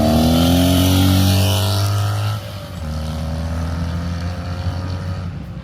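BMW R100 RS motorcycle engine at top speed, a loud sustained high-revving drone with a falling pitch that drops suddenly partway through and then holds steady.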